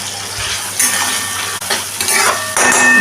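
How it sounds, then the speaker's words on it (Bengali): Tomato with salt is stirred and sautéed in a pan for a spicy pointed gourd dish, with a spoon clinking and scraping against metal over a soft sizzle, the frying rising louder toward the end. "ভালো করে কষিয়ে নিচ্ছি।"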